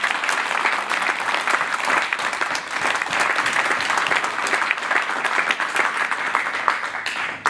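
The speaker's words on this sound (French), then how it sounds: "Je vous demande un tonnerre d'applaudissements pour Mme Christine Blot." A theater audience in Provence gives loud, sustained applause for an actress, dense clapping that fills the whole stretch evenly with no voices above it.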